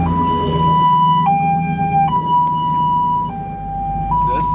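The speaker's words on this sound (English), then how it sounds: "Phil accidentally sent off my alarm" A car alarm blares loudly in a siren-like pattern, a steady electronic tone that steps between two pitches every second or so, set off outdoors in a driveway among supercars, over a low engine hum.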